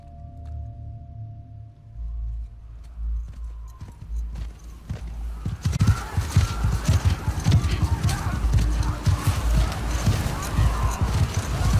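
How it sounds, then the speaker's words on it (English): Horses gallop in pursuit during a chase in The Last of Us Part II, a dense rush of hooves that builds loud and close about halfway through, with quieter rumbling and voices before it. "Joel, Abby, and Tommy are being chased by a bunch of horses."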